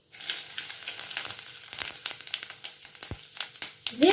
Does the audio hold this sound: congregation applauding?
no